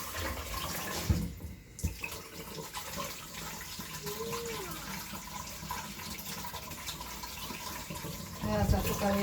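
Water pours and splashes as it is drained off rice being washed in a pot, a steady running flow close by, with a voice speaking briefly near the end.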